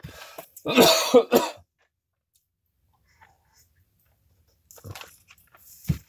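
A short burst of throat clearing and coughing, fairly close, then quiet, ending with a couple of softer coughs.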